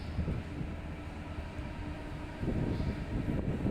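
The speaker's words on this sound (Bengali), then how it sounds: "ট্রেন ছেড়ে দিল তো চলছি চলছি চলছি আমরা ট্রেনের মধ্যে থেকে" Low, steady rumbling inside a moving train carriage, quiet and continuous, with the wheels' drone swelling slightly toward the end.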